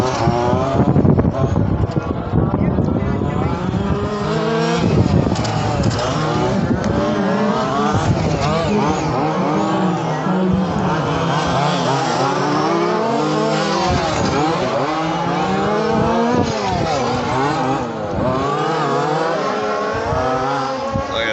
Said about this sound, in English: Yellow car coming around, a lot of fun.